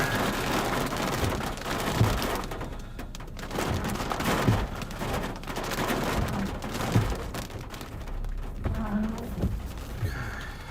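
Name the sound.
rain during an overnight storm chase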